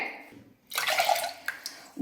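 Water pours into a pressure cooker holding kavuni black rice, a steady splashing rush that starts after a short pause and runs close and fairly loud, with a few brief spikes, and no talk.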